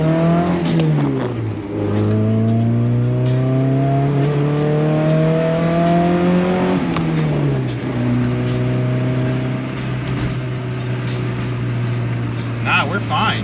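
Honda Civic EF engine revving to high RPM: the engine climbs steadily in pitch, drops briefly, climbs again and then holds a high, steady drone, loud and close, with a voice speaking over it.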